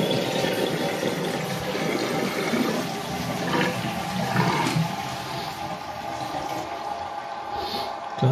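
A toilet flushes and its cistern refills, a continuous loud rush of water with gurgling and hissing that stays steady, then eases into the trickling refill.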